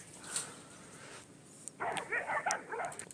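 A tied-up dog yelps and whimpers in short bursts while being teased, its cries close and fairly loud, clustered toward the end after quieter moments.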